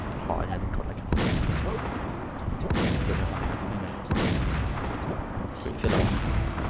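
Sniper rifle fire in the online survival shooter WarZ II: four loud, booming shots spaced roughly a second and a half apart over a steady background rumble.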